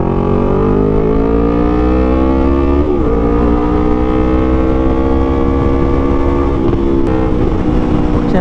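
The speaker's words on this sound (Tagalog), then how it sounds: "So gamit natin ngayon is Shopee Racing exhaust. And hindi ako natutuwa dahil sobrang ingay." A Yamaha R3 motorcycle fitted with a loud Shopee Racing aftermarket exhaust revs and holds a high, droning engine note. The pitch climbs and drops with brief throttle blips, loud and close throughout, without talk.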